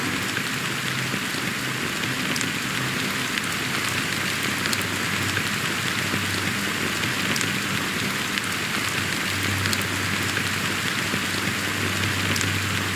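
Steady rain falls in the Honkai: Star Rail video game, a dense, continuous hiss of drops hitting surfaces that stays even and fairly close throughout, with no voices over it.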